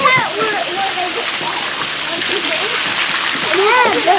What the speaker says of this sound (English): It's a pretty waterfall.